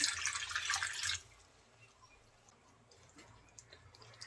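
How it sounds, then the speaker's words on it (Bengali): Water poured into a pan of frying spice paste of chili, coriander, cumin and turmeric powders gives a brief, faint hiss for about a second, then fades to quiet bubbling. "পানি দিয়ে দেবো একটু"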